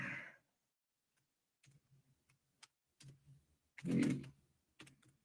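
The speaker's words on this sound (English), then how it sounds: "I'll just type it" Sparse computer-keyboard typing comes as scattered soft clicks and short key bursts with pauses between them, close and quiet in a near-silent room.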